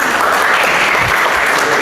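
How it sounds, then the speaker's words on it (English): Loud applause from the audience at a games festival talk, a dense, steady wash of clapping that carries on without a break and with no speech over it. "clap, clap, clap, clap"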